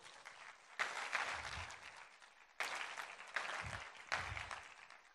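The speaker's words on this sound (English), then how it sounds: "You guys give Jasmine a round of applause." A TEDx audience applauds a woman seated in the crowd, with soft, uneven clapping that comes in several abrupt, choppy surges and drops.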